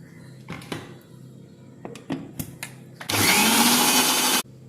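A kitchen blender whirs loudly for about a second and a half, grinding homemade mayonnaise ingredients with vegetable oil, after a few clicks and knocks of handling.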